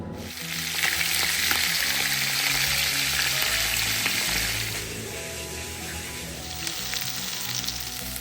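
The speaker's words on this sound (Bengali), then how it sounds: "আমি মাছ বেগুন আর আলুতে মশলা মাখিয়ে নিয়ে এখন ভেজে নেবো" Spiced hilsa fish, eggplant and potato fry in hot oil, giving a loud, continuous sizzle that swells and eases a little with stirring.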